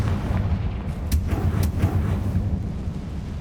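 A Confringo spell explosion in the Hogwarts Legacy video game erupts as a loud, dense rumbling boom that lasts several seconds, with a couple of sharp cracks bursting through it.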